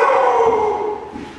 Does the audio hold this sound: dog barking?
yes